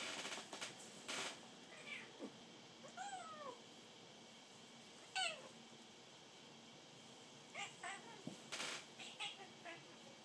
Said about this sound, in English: If we're lucky, we may be able to witness Willis the cats